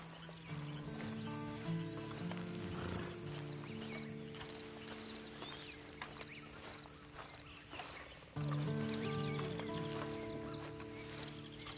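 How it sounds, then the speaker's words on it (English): Horse sounds in Red Dead Redemption 2, with soft hoof clip-clop and animal noises mixed into layered game music and ambience throughout, fairly quiet, with a swell in the music near the end. "And you better get on this horse."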